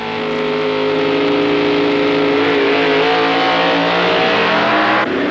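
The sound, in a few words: supercharged drag racing cars launching, 1964 Indy Nationals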